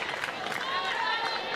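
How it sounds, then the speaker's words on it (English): A softball crowd cheers after a home run, a broad, moderate roar of voices and scattered clapping that runs steadily through the moment, with a commentator talking over it. "that's brought the crowd to life as well"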